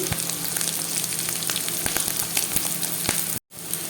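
Fish frying in a pan with ginger and cumin paste being stirred in, a steady close sizzle with scraping stir strokes throughout, briefly cutting out near the end.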